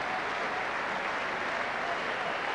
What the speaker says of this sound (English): Mal Meninga and his men turning the screw, striking when necessary, and now receiving due applause